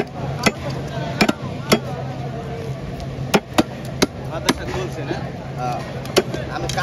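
A big kural fish being chopped at a fish market: sharp, loud knife or cleaver strikes land irregularly about a dozen times over a busy background, with voices talking nearby.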